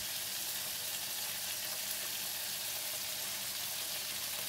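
Spinach stems stir-fried with sesame oil and oyster sauce in a pan give a steady, close hiss of frying that holds level throughout, with no voices.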